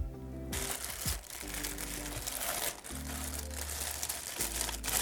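Cardboard packaging box being pulled off an Asus ROG Strix LC 240 water cooler, with close crinkling and scraping rustles over a steady low hum while someone talks.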